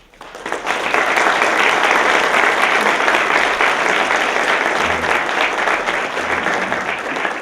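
A large audience at a university lecture in Mexico breaks into loud, sustained applause to welcome the EU ambassador. It swells quickly to a dense, even roar of clapping and holds steady for several seconds before easing slightly.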